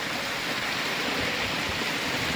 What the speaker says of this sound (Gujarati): મસ્ત વરસાદ આવેલો છે